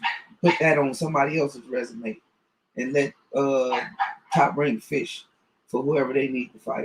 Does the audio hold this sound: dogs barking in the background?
yes